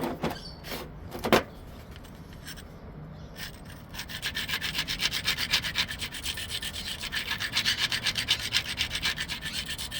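Arizona dacite obsidian is knapped, and its edge is ground with a few sharp scrapes at first. A rhythmic close rubbing grind then runs steadily through the rest, with no talking.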